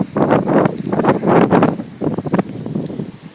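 Strong wind on a coastline at sunrise buffets the microphone in heavy, gusting rumbles that rise and fall throughout, close and loud, with no clear voices.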